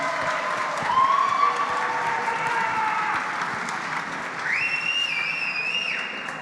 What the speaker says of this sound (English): a big congratulations, a round of applause